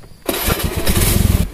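A motorcycle engine catches after a brief silence and settles into a loud, close, rough running rumble, alone without talk, on a path beside rice fields and an old sugarcane plot.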